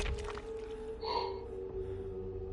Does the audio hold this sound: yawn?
yes